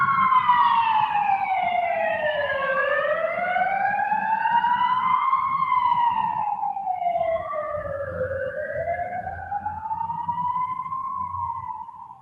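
Emergency vehicle siren wailing in long rising and falling sweeps, with several overlapping tones, heard from outside at moderate distance over faint traffic rumble.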